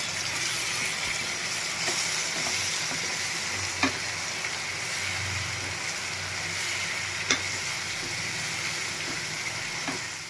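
Tomato puree cooking down with onion paste in oil for a South Indian-style masala brinjal dish, giving a steady sizzle and bubbling with a few sharp pops and clicks throughout, no voices.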